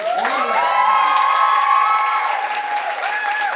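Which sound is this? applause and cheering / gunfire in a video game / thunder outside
applause and cheering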